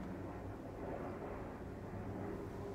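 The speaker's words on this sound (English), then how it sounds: "What plane is flying that low?" A low-flying airplane passing overhead during quarantine, a steady, heavy rumbling drone that stays loud and constant throughout with no talking.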